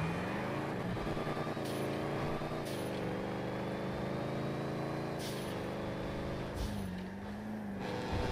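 A car engine in GTA V holds a steady, loud drone and climbs in pitch through several rising gear sweeps, running alone with no voices over it.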